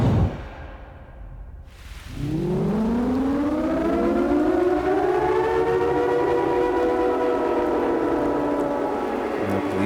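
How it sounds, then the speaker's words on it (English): A civil-defense style siren wails in the PS5 horror game Siren, rising after a low quiet rumble and then holding a loud, sustained, layered tone through the rest of the clip. "and then the siren will go off"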